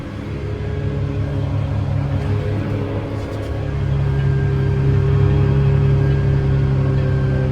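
Inside the cab of a Cat Challenger tractor, a steady low engine drone with a smooth tonal hum that swells slightly partway through, constant and close, with no talking.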